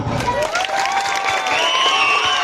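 Loud applause from a crowd at a village Shiv Jayanti cultural program in Maharashtra, steady clapping throughout with a whistly tone and crowd noise mixed in.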